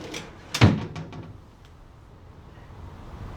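Newly installed drawers in a camper van closet build slide open with a single sharp clunk, followed by quiet room tone.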